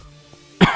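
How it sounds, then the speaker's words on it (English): One short, sharp cough breaks a near-silent pause, close and fairly loud. "Stupid cough."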